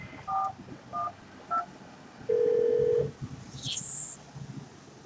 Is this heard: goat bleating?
no